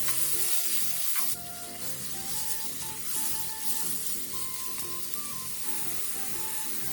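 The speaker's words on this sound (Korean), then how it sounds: "그 다음 대패 삼겹살을 넣고 살짝 익을 정도로만 볶아주세요." Thinly sliced pork belly stir-frying with garlic in an oiled pan gives a steady, moderate sizzle with light stirring, heard close and with no voices.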